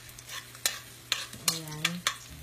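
Garlic sautéing in a pan sizzles softly while a utensil scrapes and taps the pan in several distinct strokes, close and clear.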